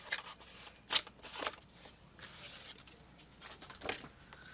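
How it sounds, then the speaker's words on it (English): Scissors snip through material in a few short, crisp bursts, spaced irregularly with quiet rustling between them, close and moderately soft. "So let me just cut some of this up."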